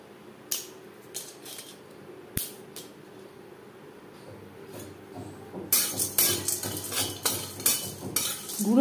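Whole spices dry-roasted on low flame in a wok for chicken biryani, with a utensil scraping and clinking against the pan in irregular strokes that grow busier and louder toward the end.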